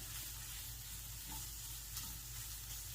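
Sausage fries in a pan with a constant, loud, crackling sizzle that fills the whole stretch without pause and with no voices.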